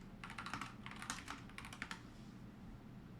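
Quick bursts of keystrokes on a SteelSeries Apex Pro TKL mechanical keyboard with plastic keycaps, crisp clicky taps in short runs, close but quiet, then the typing stops.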